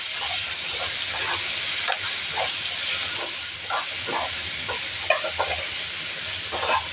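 Spicy potatoes with tomato sauce and sesame seeds being stirred and tossed in a frying pan, a steady close sizzle and hiss with repeated soft scraping strokes of the spoon throughout, no voices.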